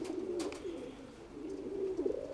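Pigeons at a pigeon loft giving soft, low repeated coos, close and fairly quiet, with no talking.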